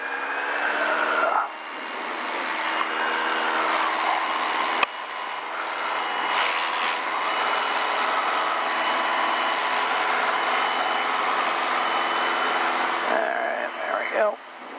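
A light airplane's engine roars at full power for takeoff, a loud steady droning hum with harmonic tones heard from inside the cabin, with people talking over it.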